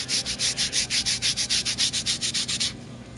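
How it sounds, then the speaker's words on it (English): Magic eraser rubbed slowly back and forth over a comic book's surface, about fifteen steady rhythmic strokes close up, then stopping. "take your little magic eraser and start rubbing, but be careful, don't go fast"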